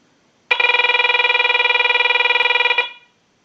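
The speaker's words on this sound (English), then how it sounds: "use the analyzer and send a ring cycle like you were getting a call" A telephone ringer, triggered by a lineman's test analyzer, sounds one continuous electronic ring burst lasting about two seconds, loud and close, then stops into silence.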